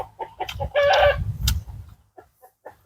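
Chickens clucking at a Thai rural home, a close burst of loud clucking and squawks, then a few softer scattered clucks trailing off.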